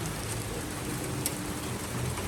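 Heavy rain pours in a dense, even hiss, loud and unbroken, with a brief sharper tap partway through.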